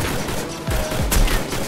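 Rapid gunfire in the battle royale game Free Fire, a quick cluster of sharp cracking shots in close succession over a busy game background, loud and near, with no speech.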